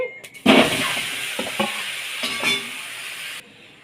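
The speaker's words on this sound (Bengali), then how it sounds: "সর্ষে ফোড়ন দিই সর্ষেগুলো সব ফেটে গেছে" Mustard seeds crackling and spitting in hot oil for a tempering, a burst of sizzle followed by scattered pops over a steady hiss that cuts off abruptly, no speech.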